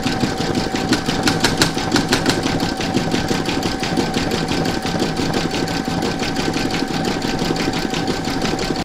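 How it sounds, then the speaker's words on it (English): Embroidery sewing machine stitching decorative top stitching over satin stitch on an in-the-hoop snowglobe design, a steady close, rapid mechanical chatter running unbroken and evenly loud throughout with no voices. "I'm now going to place this into my machine and stitch round number 11"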